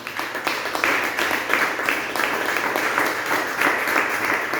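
A church congregation claps and applauds together in steady, sustained bursts, loud and close, with a voice faintly underneath the clapping.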